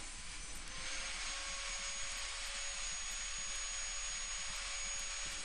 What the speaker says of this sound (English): I use a flap disc in the angle grinder and it doesn't take long.